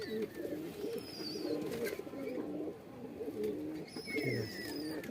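Kaldom and Nazra Kaldom pigeons coo softly in repeated low, throaty phrases, with faint bird chirps and small rustles around them and no speech.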